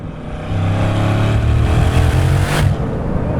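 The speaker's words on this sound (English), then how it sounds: "put your foot down, and did you hear that?" A Bugatti Chiron Super Sport accelerates hard on the Autobahn, its engine note rising into a loud, deep, sustained roar heard from inside the car, with a sharp whoosh of turbo boost near the end.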